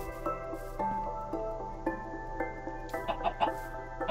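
Chickens in Minecraft cluck and squawk in short, scattered calls over a low game background hum, fairly quiet, with a busier cluster of clucks near the end.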